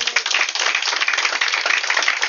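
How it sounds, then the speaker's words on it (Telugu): Sustained audience clapping at a church revival meeting, dense and steady throughout, fairly close and loud with no talk over it. "చప్పట్లు కొట్టు."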